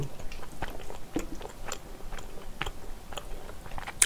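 Close, steady chewing and crunchy bites of spicy squid and pork belly bulgogi with glass noodles, repeated soft wet mouth sounds in a quiet setting.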